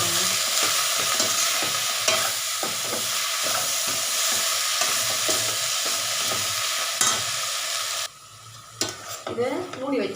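Fenugreek greens are stirred and sautéed in a hot pan, with a steady sizzle under rhythmic spoon scrapes that soften near the end, leaving quieter, scattered clinks.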